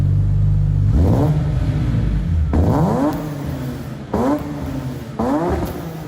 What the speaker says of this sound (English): Let me show you what German horsepower sounds like.